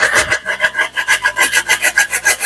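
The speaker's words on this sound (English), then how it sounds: "we're gonna grate some fresh nutmeg" Fresh nutmeg grated for a Jamaican sweet potato pudding mixture, a close, loud rasping scrape repeating in a quick steady rhythm of about a dozen strokes.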